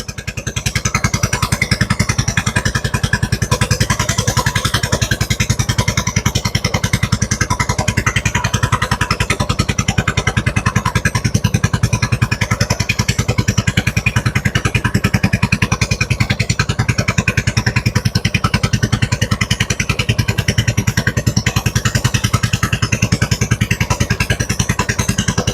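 Small boat engine running steadily while crossing a river, a loud, continuous rapid putter with mechanical clatter that holds at an even level throughout.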